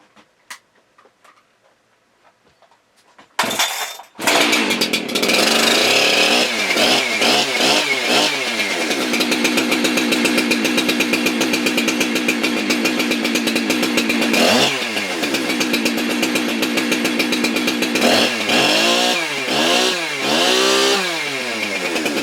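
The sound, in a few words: Husqvarna 372 chainsaw running with new chain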